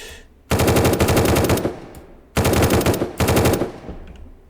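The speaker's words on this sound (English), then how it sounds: "So I should not be firing a gun unless I absolutely need to" Automatic gunfire in the zombie video game YouWillRot: three loud, rapid bursts of machine-gun fire, the first about a second and a half long and the next two shorter, with brief gaps between them.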